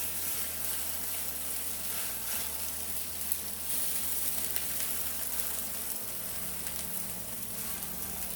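A peppercorn-crusted New York strip steak sears in a hot pan with a steady, loud sizzle and crackle that carries on without a break, while faint shifting and scraping sounds come through as the meat is moved around.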